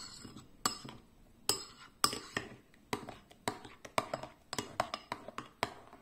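Spoon clinking and scraping around a bowl while mixing chocolate into breakfast ingredients, a quick irregular series of sharp close taps and clicks with soft rustling between them, with no voices.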